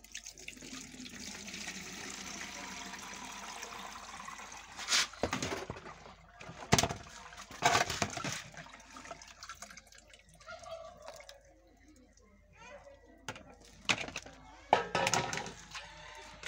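Lemongrass liquid for broiler chickens poured through a sieve, a faint steady trickle and splash with scattered clinks and knocks of the container, close by.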